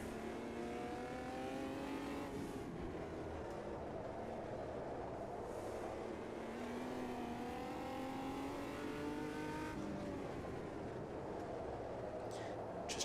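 An Omega Stock Car racing in the Automobilista 2 sim at Autodromo Yahuacocha makes a continuous engine drone that rises and falls through revving gear changes, with other cars nearby and no talking.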